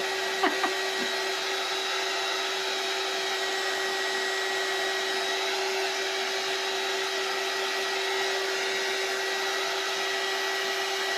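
Hair dryer blowing continuously at close range, a steady loud whooshing hum with an even tone that runs throughout, preceded by a couple of faint clicks at the start and no talking.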